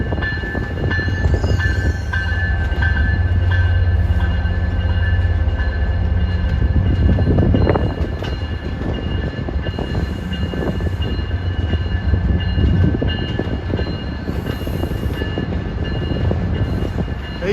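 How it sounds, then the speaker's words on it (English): MBTA commuter train 623 from Needham Heights rolls past close by, a loud continuous rumble of wheels and cars with a steady engine drone and brief horn-like tones, no speech. "here comes 623 from Needham Heights at 3:55, and 823 to Wickford Junction is departing."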